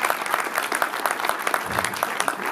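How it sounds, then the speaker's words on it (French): A French community audience applauds steadily, many hands clapping in a dense, continuous patter that stays fairly loud throughout with no one speaking. "Donc on peut les applaudir."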